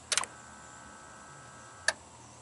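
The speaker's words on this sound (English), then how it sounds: "We'll touch our lead here, and we should hear the fuel injectors fire." Fuel injectors firing on a 1988 Chevy truck with a 5.0 V8 during a crank no-start check: a quick cluster of sharp clicks, then one more click after a short pause, close by and otherwise quiet.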